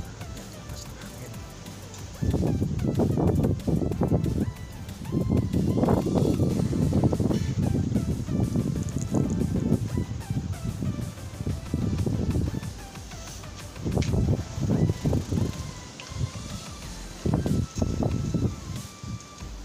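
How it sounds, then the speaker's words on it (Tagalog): Strong wind gusts through trees as their flowers begin to bloom, a loud, rushing roar that rises and falls in waves with rustling, and faint voices are heard in the background. "Yan, lakas ng hangin."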